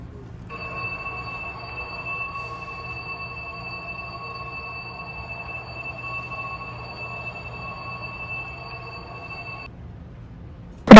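A Chinese bullet train pulls into a station, its sustained electronic tone and chime holding steady for about nine seconds over a low interior rumble, with no talking.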